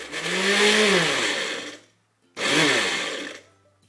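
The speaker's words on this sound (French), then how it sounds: "nous allons dans un premier temps mixer les palais bretons, donc on va tous les mettre dans le mixeur" A kitchen blender pulverises palets bretons butter biscuits for a no-bake strawberry tart base, roaring in two loud bursts with a short pause between them.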